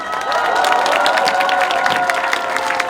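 A large outdoor crowd at an election campaign rally cheers and applauds steadily and loudly, with shouts and claps blending into a continuous roar that holds throughout.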